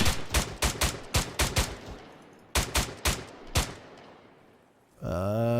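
Machine gun fire from the Arma 3 video game comes in two bursts of sharp, echoing shots, about seven and then five, followed by a rising electronic tone at the end.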